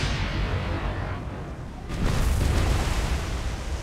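Naval gunfire in the War on the Sea video game: a steady, dense roar of rumbling booms that swells into a louder burst of heavy detonations partway through, with no talk over it.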